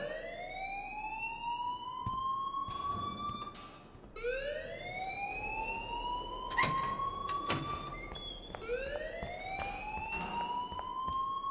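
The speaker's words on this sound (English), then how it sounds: "please turn off that alarm since that's your job" A fire alarm rings in the Life is Strange video game, a rising electronic whoop that sweeps upward again and again in a repeating cycle, with a few sharp clicks and beeps over it.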